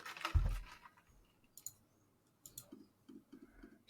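Faint computer mouse clicks, a few sharp isolated ticks scattered through near-silence with no speech.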